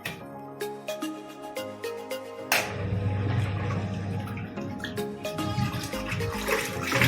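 A DESHI washing machine rinses clothes. Short electronic beeps sound as its timer is set, then loud water swirls and churns in rhythmic surges.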